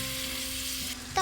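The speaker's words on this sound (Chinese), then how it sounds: "油热了，放鸡肉，翻炒，" Chicken pieces stir-fry in hot oil, giving a continuous close sizzle with a brief clatter at the end.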